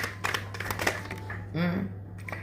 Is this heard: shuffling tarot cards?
yes